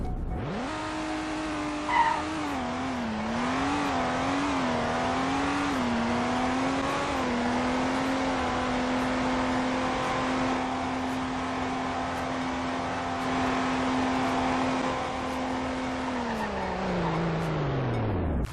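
A sports car in a driving video game revs hard through rising gears, then brakes to a stop, with a steady engine drone, a brief tire screech early, and a falling pitch at the end.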